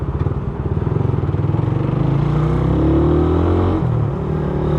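A rough, noisy Suzuki Raider 150 carburetor motorcycle engine idling and revving up close, with a rattly, uneven throb and clatter from a noisy cylinder head, no voices.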